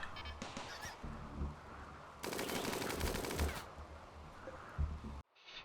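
Rapid gunfire in the video game RimWorld, a dense burst of automatic shots lasting about three seconds in the middle, with scattered game sounds before and after and no talk.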